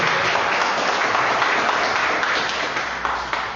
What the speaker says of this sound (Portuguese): Eu gostaria que vocês dessem uma salva de palmas para o Senhor Jesus.